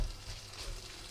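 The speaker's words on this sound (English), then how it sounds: "all we're doing is just gently frying these for just a few minutes" Food gently frying in a pan on an induction hob, a steady soft sizzle with faint crackle running evenly throughout, close by and alone.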